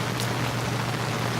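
Light rain falls on outdoor biochar test plots as a steady, even hiss that stays constant throughout, with a low hum underneath and no voices.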